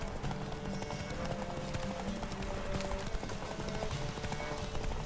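Horse galloping in the video game The Witcher 3, with steady rapid clip-clop hoofbeats running loud and continuous under a dense game soundtrack.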